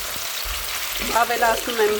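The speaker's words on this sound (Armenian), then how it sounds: "Սկզբում միսը կարմրացրեցի, հետո ավելացրեցի կարտոֆիլը, հիմա արդեն երկուսն էլ լավ եփվել են։" Pork and potatoes fry in a pan with a steady, soft sizzle and a few scraping stirs, while a voice speaks briefly over the cooking.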